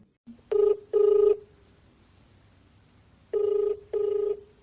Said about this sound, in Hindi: वो आलिशा चौधरी को अब फोन लगाया।